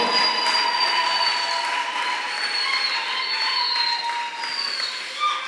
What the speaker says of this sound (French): Can we applaud for them?